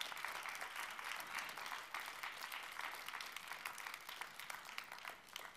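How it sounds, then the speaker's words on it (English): An audience at an award ceremony applauds during a photo moment, giving steady, even clapping from many hands that carries on without a break, heard at a moderate distance. "On fait les photos, vous devez applaudir"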